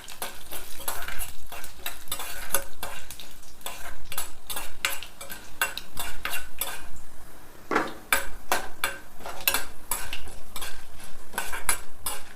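Dried red chillies and tempering seeds frying in oil while a metal spoon stirs briskly, producing rapid clinks and scrapes against the pan over a low sizzle, with one short pause.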